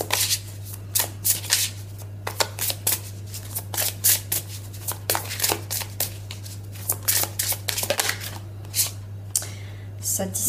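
Oracle cards are shuffled by hand for a three-card evening reading, with quick repeated riffling and crisp slaps in irregular bursts, close up over a steady low electrical hum.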